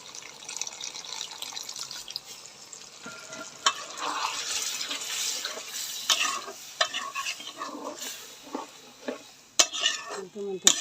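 Water poured a little at a time into a fried chicken curry masala, sizzling and bubbling in the pan with stirring scrapes and spoon clinks, moderately close and growing busier toward the end.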